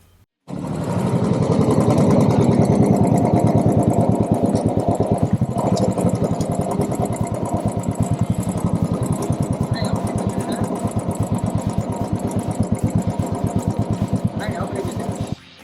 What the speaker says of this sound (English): Check out the exhaust note here.